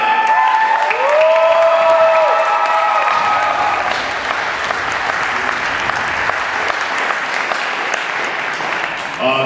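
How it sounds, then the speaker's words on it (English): Audience at a poetry slam applauding poets, a dense burst of clapping that swells near the start and holds steady throughout, with a little cheering mixed in. "Firstlandia poets, stand up and get applauded."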